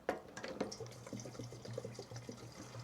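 Liquid is pumped into old power equipment in short bursts, giving a close, faint trickle with splashy, tap-like pulses and a low periodic pump hum.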